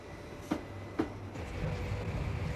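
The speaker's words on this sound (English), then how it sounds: "the 3:18 express train left Cardiff for London Paddington" An express train from Cardiff to London Paddington rolls along with a steady low rumble, two sharp clunks of wheels over rail joints standing out early on.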